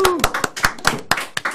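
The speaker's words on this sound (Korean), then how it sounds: "박수와 함께 힘차게" Sharp, rhythmic hand claps, about eight in quick succession, ring out close by during a Korean political livestream from Yatap Square in Seongnam, with a voice briefly heard at the start.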